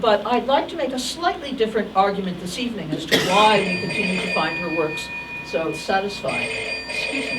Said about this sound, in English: I believe that's my phone.